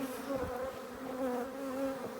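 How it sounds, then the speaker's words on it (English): Honey bees buzzing in a hive built into a flat roof, a dense, continuous drone of many insects with wavering pitch, close and steady throughout. "is it a maelstrom of bees, a melee of bees?"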